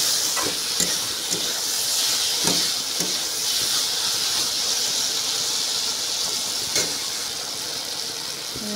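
Water hits frying vegetables in a pan, producing a continuous loud sizzle and steamy hiss with scattered pops and crackles throughout.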